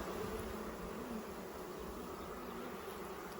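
Honey bees buzz around a beehive in a steady, dense hum that holds evenly throughout at a moderate level, with no talking.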